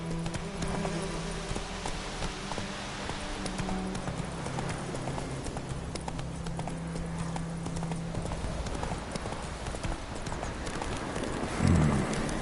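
Steady clip-clop of hooves from Geralt's horse Roach in The Witcher, a continuous galloping rhythm at moderate loudness, with a brief snort or whinny near the end.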